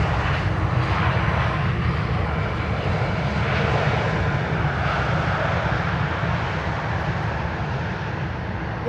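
A Boeing 747 airliner landing at Amsterdam Schiphol Airport, its loud jet engine roar sustained and broadband throughout, close and steady before easing slightly at the end, with no voices.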